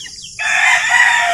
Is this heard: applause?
no